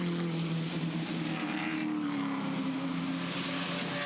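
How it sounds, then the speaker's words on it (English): V8 race car engines in an Improved Production race at Adelaide, a continuous loud roar with a rising whine as cars pass, heard from a moderate distance without speech. "Love the different notes, engine sounds. Plenty of V8s here at the back working their way through."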